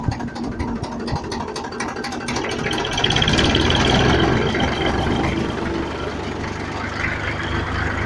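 A potato harvester's engine runs steadily and rises in pitch and loudness as more throttle is given, holding a higher rev for a few seconds before easing back slightly, with no talk over it.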